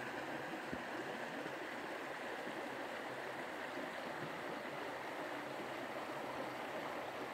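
The Middle Fork John Day River in Oregon flowing on a peaceful morning, a steady, full rushing of water that stays even throughout, with no voices.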